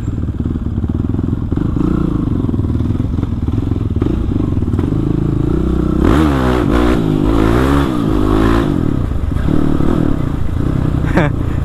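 A Kawasaki KLX 450 supermoto motorcycle accelerates hard, its loud, close single-cylinder engine revving up and down in surges, with a rider talking over it.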